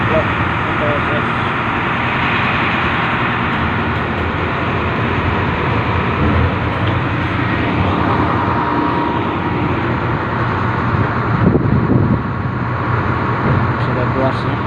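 A train hauling liquid nickel cargo in Southeast Sulawesi rolls on with a steady, loud, continuous rumble and rattle, heard from on board throughout with a brief louder surge near the end.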